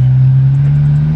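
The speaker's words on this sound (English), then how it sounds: "I guess the exhaust sounds, you can kind of hear the whistle, which is sweet, man" A Dodge Challenger V6 fitted with a throttle body spacer holds a loud, steady engine drone close by for a short moment, without distinct revving.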